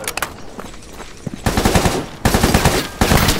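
Video game gunfire in Stalker GAMMA: sharp automatic bursts of close, loud shots, a few scattered rounds first, then three rapid strings of fire in quick succession.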